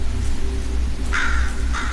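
A bird in the video game Exanimum: The Silent Call gives two short, bright calls about half a second apart over a steady low rumble and soft rain-like hiss.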